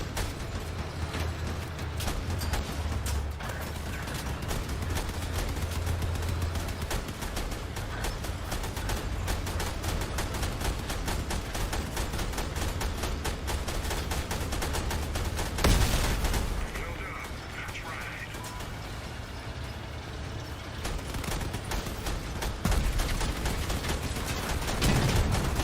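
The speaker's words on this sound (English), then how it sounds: "Somebody running 3 auto cannons on a big cabin" Rapid bursts of autocannon fire in the vehicle-combat game Crossout, with three auto cannons mounted on a big cabin, crackling continuously and densely throughout with a heavier thump midway, loud and close.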